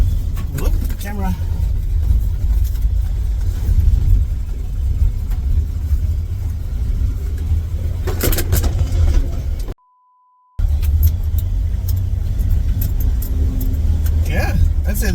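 A 1985 Chevy S-10 pickup drives and turns around on a road, its engine rumbling steadily up close from inside the cab with some rattles, while someone talks over it; a brief dropout breaks the sound partway through.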